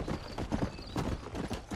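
Horse hooves clip-clop steadily in the Red Dead Redemption video game, a brisk, even rhythm of close, loud hoofbeats that runs throughout with no talk over it.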